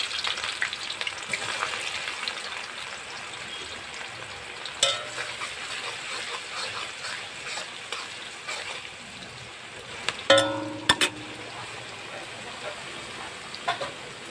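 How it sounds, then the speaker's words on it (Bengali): Chopped onion fries in oil for a boal fish curry, a steady crackling sizzle with occasional stirring clatters and a sharp utensil knock, moderately close, with faint speech in the background. "ফোড়নে পেঁয়াজ কুচিটা দিয়ে দিলাম। পেঁয়াজটা ভাজা হোক।"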